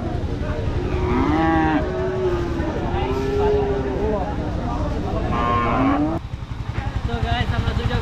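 Cows lowing repeatedly at a busy rural cattle market in Bangladesh, several drawn-out moos rising and falling close by over a constant crowd murmur and passing motorbike engines.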